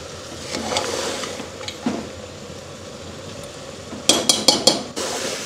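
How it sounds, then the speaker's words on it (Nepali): Mutton head curry is stir-fried in a pot, with scraping and stirring under a faint background hiss, then a quick burst of four or five sharp metal clanks of a utensil against the pot near the end. "एकछिन भुट्नु पर्यो"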